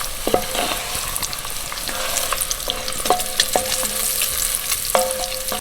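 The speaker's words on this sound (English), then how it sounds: "Yeah, that bacon is almost done." Bacon frying in a pan over a bushcraft cooking fire, a steady crackling sizzle with occasional stirring clinks and scrapes, close and moderately loud, no talking.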